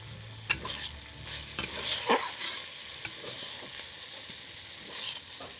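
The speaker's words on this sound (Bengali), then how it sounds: "ভেজে রাখা বড়ি একসঙ্গে ভালো করে নেড়ে দেব" Spinach with fried lentil dumplings (bori) being stirred in a pan: repeated scraping strokes of a spatula over a soft, steady sizzle, close and fairly quiet.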